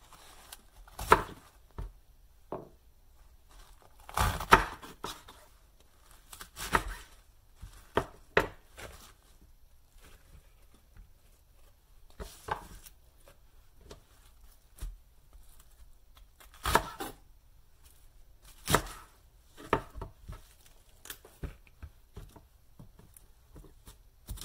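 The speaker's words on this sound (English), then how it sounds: "So I'm just going to chop up a little bit here." Knife chopping vegetables on a cutting board for a salad, in short clusters of crisp taps with pauses between, close and fairly quiet, no talking.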